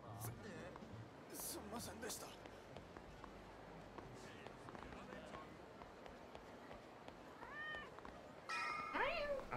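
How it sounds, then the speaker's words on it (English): A cat in the video game Yakuza 0 meows a few times near the end, short rising cries over game ambience, footsteps and running, with people talking throughout. "Heard the cat."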